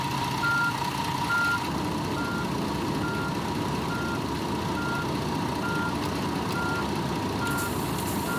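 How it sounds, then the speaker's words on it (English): Bus reversing beeps in Tourist Bus Simulator, a steady train of evenly spaced electronic beeps repeating about twice a second over a continuous diesel engine rumble, loud and close throughout. "Yeah, I know, that's gonna keep beeping."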